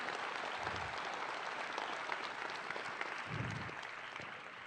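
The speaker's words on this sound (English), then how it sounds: "Let's give them a nice round of applause" Sustained applause from a large crowd at a middle school promotion ceremony, a steady dense wash of clapping that continues throughout.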